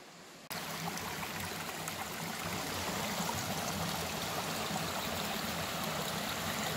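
The Pelayos river flows steadily nearby in the Gredos mountains near Arenas de San Pedro and Guisando, a constant rushing, burbling wash of water that starts suddenly and holds at an even level.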